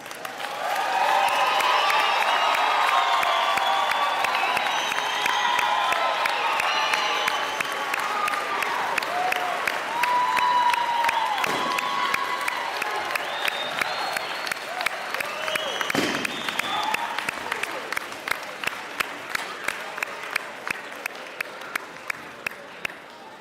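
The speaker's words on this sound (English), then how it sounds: "Audience, can you join me in giving them a round of applause?" A large commencement audience applauds the Lamar Community College graduates of 2019 with sustained, dense clapping and some cheering. The clapping fills the hall, then thins into scattered individual claps toward the end.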